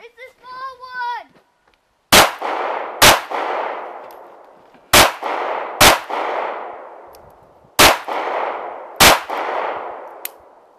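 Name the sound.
pistol gunshots at a shooting event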